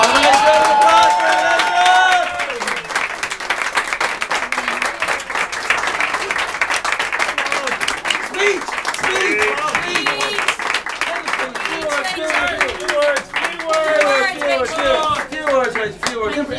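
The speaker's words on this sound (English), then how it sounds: "Nice round of applause for" Sustained audience applause for a colleague being handed a parting present at a gathering, dense clapping filling the whole stretch at steady loudness, with some voices and cheers mixed in.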